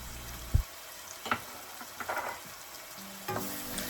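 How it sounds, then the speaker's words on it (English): Garlic and ginger paste sizzles in a pan for a chicken curry, with a soft continuous fry under a few sharp scrapes and knocks of a stirring spoon. "Just stir it and fry it for just a minute or two until the raw smell of the garlic and ginger is gone"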